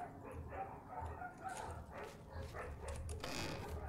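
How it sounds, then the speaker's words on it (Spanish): Dogs bark in the background of an Elder Scrolls IV: Oblivion game session, with a steady murmur of sound throughout and sharper bursts toward the end. "Hay perritos de fondo."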